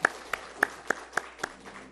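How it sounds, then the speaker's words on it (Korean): Clapping during a church morning service, a few unison claps struck in a slow, even rhythm, crisp and distinct against a quiet room. "영광의 박수를 하나님께 드립니다."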